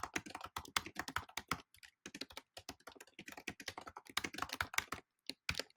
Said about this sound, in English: look at that typing